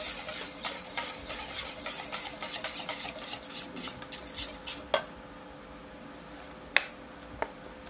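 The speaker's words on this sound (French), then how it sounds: "mélangez dans un premier temps l'huile avec les jaunes" Oil and egg yolks being mixed in a bowl for blini batter, a steady run of quick scraping, clinking strokes for about five seconds, then a few sharp isolated knocks in near silence.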